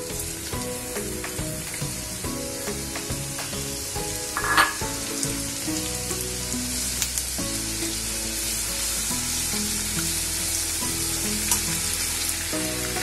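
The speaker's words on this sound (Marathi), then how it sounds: "तेलामध्ये कांदा घालूया," Onion fries in a generous amount of hot oil in a kadhai, a steady close sizzle with occasional stirring clatter and crackles, continuous throughout with no talking.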